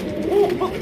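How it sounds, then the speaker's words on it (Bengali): An Afghan racing pigeon gives a short, close coo with two soft rising-and-falling notes in under a second. "এক কথায় অলরাউন্ডার একজন রেসার কবুতর"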